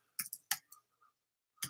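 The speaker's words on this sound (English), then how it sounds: "It's a new keyboard," Keys clack on a new computer keyboard in a few quick, close clicks, a pause with faint tapping, then another burst at the end.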